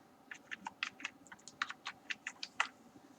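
Keystrokes on a computer keyboard while JavaScript code is typed, a quiet, irregular run of about a dozen sharp clicks close up over a faint room hiss, with no talking.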